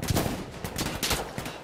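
Gunfire in an online shooter video game, several sharp shots in quick succession, loud and close.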